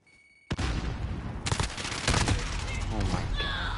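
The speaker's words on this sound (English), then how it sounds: "Grenade out!" Gunfire and a grenade blast crackle through a loud stretch of combat in a PlayStation 4 shooter on a ship map, with dense bursts of shots and booms packed close together.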